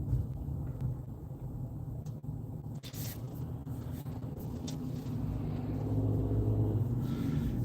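A car moving through city traffic, a steady low engine and road rumble that rises slightly toward the end, with no talk over it.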